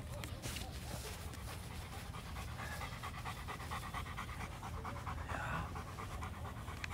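A Rottweiler pants rapidly and steadily during obedience training, close and continuous, with some faint talk in the background.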